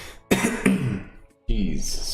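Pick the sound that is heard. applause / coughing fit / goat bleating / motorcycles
coughing fit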